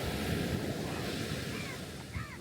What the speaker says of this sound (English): And you hear really nice waves, nice breeze.